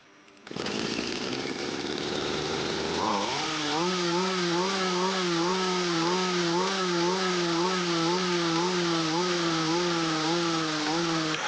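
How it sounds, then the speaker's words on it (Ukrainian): A McCulloch MacCat 435 petrol chainsaw, just repaired, starts with a pull and then idles loudly and close up, its engine note wavering slightly in pitch as it keeps running steadily. "Пилка, як бачите, запрацювала."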